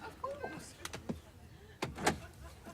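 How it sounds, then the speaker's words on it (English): A car door is unlocked and pulled open: a couple of sharp mechanical clicks and clunks, then a louder latch release and swing of the door, set against faint background movement. "would you mind unlocking the door?"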